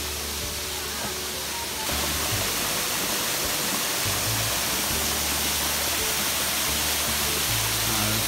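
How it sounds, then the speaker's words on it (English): Steady, loud rush of falling water, a dense continuous roar that swells slightly after a couple of seconds and holds. "Oh, there's Hayden under the waterfall."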